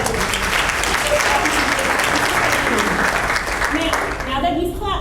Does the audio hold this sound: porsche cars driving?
no